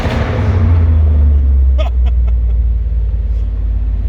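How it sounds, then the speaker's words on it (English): A supercharged 500 hp fourth-generation Camaro runs loud and close, a heavy deep engine rumble held steady throughout with a few faint voices in the background. "That car is way too loud."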